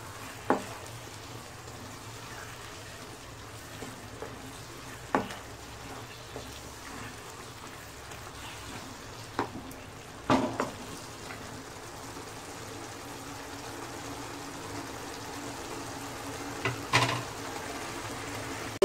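Sorrel leaf bhaji fries in oil in Hyderabadi style, giving a quiet, continuous sizzle broken by a few soft spoon taps and scrapes.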